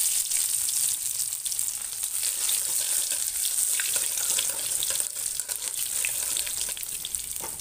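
Crushed garlic hits hot oil seasoned with panch phoron, giving a loud, steady, close sizzle with scattered crackles throughout, no voices present.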